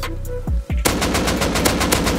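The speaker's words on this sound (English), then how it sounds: "I'm getting shot by a fucking revolver kit though" Rapid gunfire in the video game Rust, a dense close volley of sharp repeated shots after a couple of isolated thumps, loud and continuous to the end.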